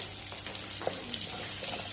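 Tap water running into a pot in a home kitchen to be boiled for beef with macaroni, a quiet, steady hiss of flowing water.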